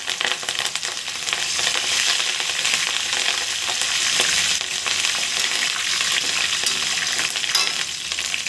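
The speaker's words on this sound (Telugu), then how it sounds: "ఈ ఆకులు దళదళ అనే వరకు ఆయిల్ని బాగా కాగనివ్వాలి" Curry leaves crackling and sizzling in hot oil, a dense continuous frying hiss with bright sputters throughout, close and fairly loud, no talk.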